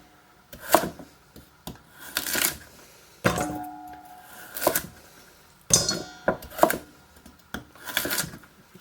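A knife chops through carrots on a cutting board, halving them for corned beef: sharp, close knocks coming singly or in quick pairs at irregular intervals across several seconds, with quiet gaps and no talking.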